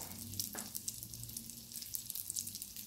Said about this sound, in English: So you'll start to hear it sizzling.